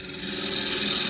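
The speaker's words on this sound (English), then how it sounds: "Half-inch spindle gouge." A half-inch spindle gouge cuts a wooden bowl on a lathe, giving a brief, steady, close scraping rasp of a tool against spinning wood.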